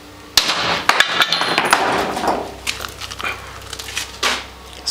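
Hammer blows land on a dead car battery during desulfating, a sharp loud strike followed by several scattered knocks and clinks over about five seconds, with faint background rumble.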